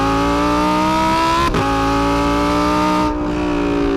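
A naturally aspirated Lamborghini Huracan EVO RWD engine revs hard and loud up close, holding a steady high wail with a brief gear-change dip around the middle before climbing on.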